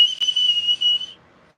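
A person whistles a steady, high, piercing tone to imitate a car's brakes whistling and howling. It is sustained for about a second, then cuts off into silence.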